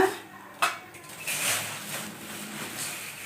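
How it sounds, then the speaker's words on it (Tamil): A kadai being set down on a stove burner for dry-roasting spices, giving one sharp metallic clank followed by lighter scraping and pan rattles, close and fairly quiet. "அடுப்பை ஆன் பண்ணி ஒரு கடாயை அடுப்பில் வச்சுக்குவோம்"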